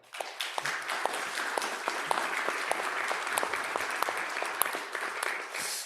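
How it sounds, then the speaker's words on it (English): Audience at the Europeana conference applauding in a museum hall, a moderately quiet, even patter of many hands clapping continuously, with some individual claps standing out. "I'd like to have an applause for that."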